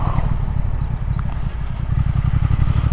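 Triumph Speed Twin 1200 motorcycle engine thrumming steadily at low pitch with a pulsing, even beat, close and fairly loud, with wind rush over it.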